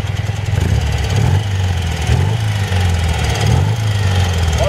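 A 1972 BMW R75/5 motorcycle with a toaster tank, its boxer twin idling loud and close with a steady low pulse and small blips of the throttle.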